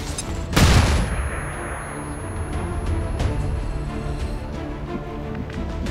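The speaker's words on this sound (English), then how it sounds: "Flashbang out!" A flashbang grenade bursts in XCOM 2 with one sharp, loud bang followed by a ringing tone and fainter scattered clatter and crackle that lingers afterward.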